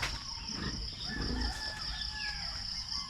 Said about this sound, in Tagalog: isang random na babuyan at manukan